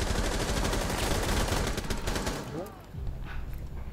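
Rapid automatic gunfire in the tactical shooter Rainbow Six Siege, a loud dense burst of shots that cuts off sharply near the end, leaving quieter in-game ambience.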